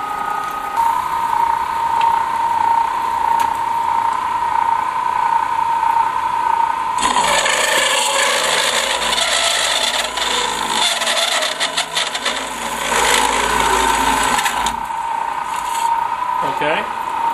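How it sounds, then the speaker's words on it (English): A shop machine saw runs with a steady humming whine, then bites into stock set at 2 inches, giving a louder, rough cutting roar for several seconds before settling back to the running hum. "That's a sign of a machine which is working perfect, making perfect cuts."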